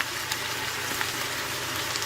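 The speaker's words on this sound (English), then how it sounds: "We're going to add these tomatoes undrained" Canned tomatoes, juice and all, go into a pan of browned lamb and onions, giving a steady, close, soft sizzle and crackle that carries on evenly with no talking.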